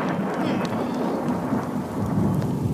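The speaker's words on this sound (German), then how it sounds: "Hier dauert der Regen nie lange." Steady rain falls in a cartoon forest while thunder rumbles low and continuously beneath it, a dense, close wash of downpour with no voices.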